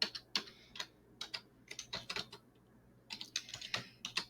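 Rapid keystrokes on a computer keyboard come in quick bursts separated by short pauses, close and fairly clear against a quiet room with a low hum.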